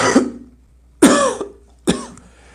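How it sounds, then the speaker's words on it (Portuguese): Three separate coughs from a single person, close and loud, each a sharp burst that trails off, spaced roughly a second apart with quiet gaps between. "eu vou tossir algumas vezes, peço perdão"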